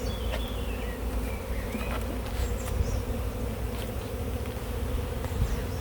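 Honeybees buzz steadily around an open beehive frame, with a dense, continuous drone close by and single bees occasionally whining past.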